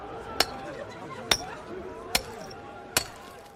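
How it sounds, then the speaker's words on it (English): Four sharp metallic hammer strikes ring out at steady intervals, each a bright clink chipping pieces off the Berlin Wall in 1989, over a murmur of background crowd noise. "Now someone has a hammer."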